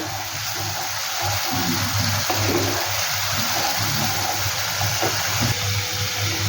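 Spice paste thinned with water is tipped into a pan of jackfruit kofta curry, giving a steady, close pouring wash over a low constant hum, with no talk.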